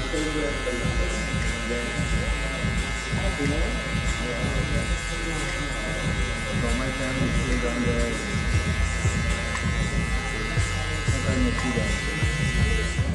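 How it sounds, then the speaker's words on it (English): Electric hair clipper buzzing steadily while trimming a mid fade at a barbershop, close and continuous for the whole stretch, with a person talking over the hum. "you either use your trimmers or a really zero gap clipper"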